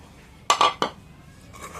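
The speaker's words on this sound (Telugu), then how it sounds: "ఇది చాలా మెల్లగా కలుపుకోవాలి" A utensil stirs drumstick pieces into a tamarind pachadi in a metal bowl, giving a quick cluster of three bright clinks and scrapes midway, then a quiet hush.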